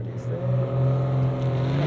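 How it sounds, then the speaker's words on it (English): A 2023 BMW M340i launches hard off the line with launch control, its engine note a loud, steady rising drone heard from inside the car with no talk over it. "I'll use launch control here too. So hard on the brake, hard on the throttle."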